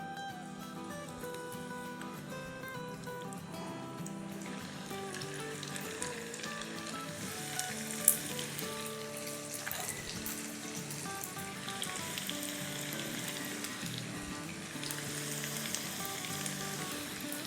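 Pakora batter frying in hot oil for Ramadan iftar snacks, a dense continuous crackling sizzle that swells as more batter is added, steady and close, with no talk.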